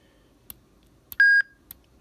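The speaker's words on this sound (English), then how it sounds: "beeps, let you know you got to the top." A Kenwood NX 5000 two-way radio gives short electronic beeps on reaching the top of its frequency list: a few quick clicks around one clear sustained tone, close and otherwise quiet.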